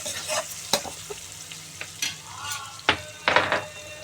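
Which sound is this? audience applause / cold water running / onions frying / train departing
onions frying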